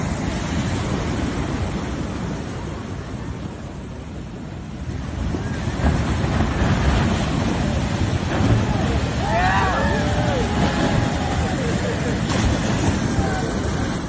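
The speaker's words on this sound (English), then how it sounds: "The waves still high and fast, and surfers are out this morning under the Golden Gate Bridge." Ocean surf breaks under the Golden Gate Bridge on a morning with high, fast waves, a steady wash of water and wind buffeting the microphone throughout, with no one speaking.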